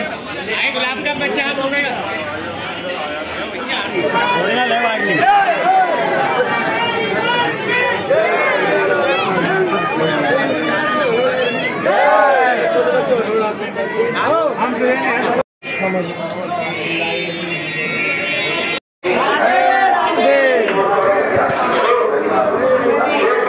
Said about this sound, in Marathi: गर्दी बघू शकता एवढी मोठी गर्दी आहे.